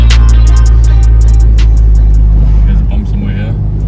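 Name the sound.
lawnmower engine started and running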